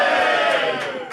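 A brief burst of studio audience reaction, cheering or booing at a car name on a motoring show, a single sustained crowd shout lasting about a second.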